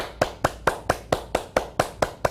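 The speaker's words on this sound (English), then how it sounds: "Take your hands and clap. Now clap a little louder." Hands clap sharply and steadily in a yoga class at a senior center, about ten close, evenly spaced claps in quick succession with no talking.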